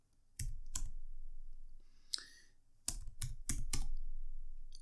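Keys on a computer keyboard clack in short, uneven bursts of a few strokes each, close and fairly quiet against a soft background hum.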